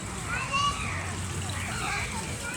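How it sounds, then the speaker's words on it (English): Small stream of water splashing and sloshing steadily beside a footbridge in a nature park, close and continuous, with children's voices faintly in the background. "I bet this will protect me from the little stream of water."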